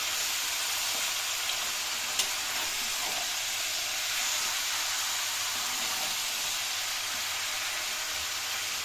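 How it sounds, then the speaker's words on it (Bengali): Mutton frying in oil in a kadai, a continuous close hiss and sizzle that holds at an even level, with a faint tick or two and no voices. "মাটনটা পুরোটাই কড়াতে দিয়ে দিয়েছি"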